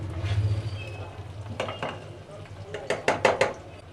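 A green pea paste filling fries in a pan while a spatula stirs and scrapes it. A low sizzle gives way to several crisp scraping and clinking strokes against the metal.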